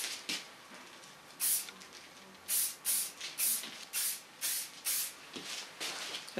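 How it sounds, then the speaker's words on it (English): Strong hairspray misted onto styled hair in a series of short, close bursts, each a sharp hiss with brief pauses between, about eight puffs in all with no talking. "using a new hairspray is also a wonderful strong hairspray, just to give it a hold"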